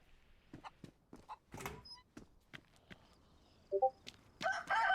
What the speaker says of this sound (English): Hear that little chicken?